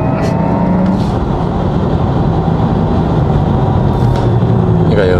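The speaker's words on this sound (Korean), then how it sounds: "의외로 바람 소리가 좀 나는구나 앞에서" A steady rushing roar of wind and road noise fills a moving Porsche cabin, loud and constant throughout.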